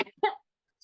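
A single short cough from someone with a cold, a quick throaty burst after a brief breath, close and fairly quiet, followed by silence.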